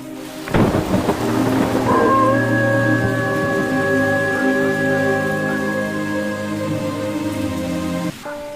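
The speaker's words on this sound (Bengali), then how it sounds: "প্রচন্ড বৃষ্টি বজ্রপাত মাথায় নিয়ে খোকন বেরিয়ে পড়ে মাঠের উদ্দেশ্যে।" Loud thunder cracks and rolls over steady heavy rain, a long rumbling peal lingering before the downpour continues alone.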